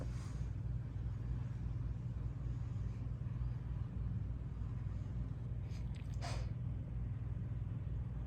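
A Tesla Model S Plaid pulls out of a residential neighborhood, its low, steady road rumble continuous throughout, with a brief brighter swish of passing air or tire noise near the end.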